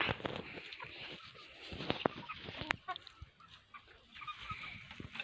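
Free-range country chickens cluck and call in a yard, several birds overlapping in irregular bursts at close to moderate distance, with a sharp squawk near the middle.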